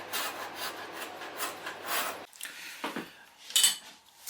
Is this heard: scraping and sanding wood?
yes